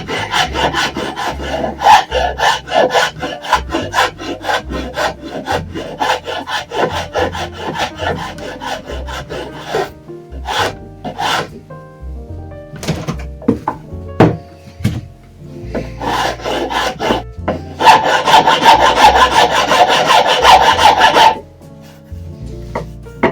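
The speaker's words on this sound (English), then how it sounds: "I'll try the rasp instead. So now a file" A hand file smooths the curved wooden part of a continental frame saw with close, rhythmic rasping strokes, paused briefly midway before a final sustained run of scraping.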